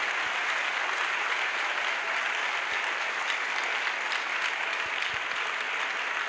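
Steady applause rises from a congregation at a church crusade service, a continuous wash of clapping held at an even, moderate level from start to finish.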